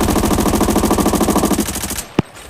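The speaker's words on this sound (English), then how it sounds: "So I'm gonna position myself right over here and shoot this dummy." Automatic M4 rifle in Arena Breakout firing A1 ammo at a dummy on a shooting range: a loud, rapid continuous burst lasting about two seconds, then a sharp single crack after a short pause.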